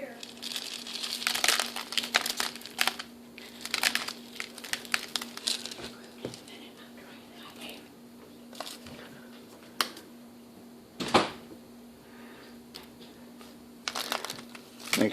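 Coarse salt is rubbed by hand into a leg of lamb for a prosciutto cure, making repeated gritty crunching and crinkling scrapes in irregular bursts at close range, with soft pauses and faint background talk.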